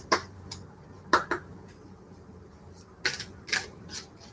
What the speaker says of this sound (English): So light shuffling.